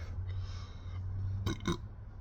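A deep, low rumbling burp held for about a second, close by, followed by a couple of short breathy exhalations.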